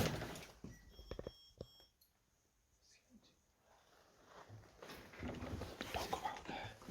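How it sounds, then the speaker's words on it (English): Faint, repeated electronic beeps sound inside an abandoned care home, thin and distant at first, then buried under footsteps, rustling and hushed voices. "Where the hell is that beeping coming from?"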